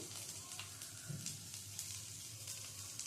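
Vegetables frying in a pan for a flattened-rice (chire) breakfast, a faint, steady sizzle and hiss with a few soft crackles.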